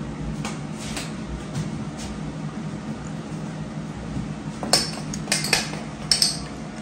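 Utensils scraping and clinking against a bowl while cornbread batter is mixed, faint steady stirring that turns into sharper metallic clinks near the end.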